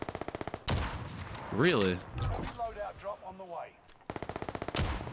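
Rapid bursts of CW MP5 gunfire in Warzone on Rebirth Island, a fast rattling string at the start and another near the end, with a player talking and reacting in between.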